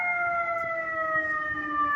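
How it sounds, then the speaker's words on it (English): An emergency vehicle siren sounds on a New York street, a steady wailing tone held at medium distance over a low traffic rumble, with no one speaking. "here's a sound that you hear day and night, everywhere in New York, the sound of the siren."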